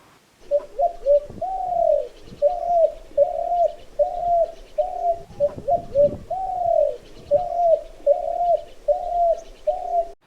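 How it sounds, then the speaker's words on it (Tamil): A spotted dove in a mangrove area repeats a steady, rhythmic series of soft, close coos, with a few faint rustles underneath. "இந்த மணிப்புறாவோட காதல் பாட்டு அருமையாக இருக்கும், அதை கொஞ்ச நேரம் எல்லாரும் கேட்டு ரசிங்க."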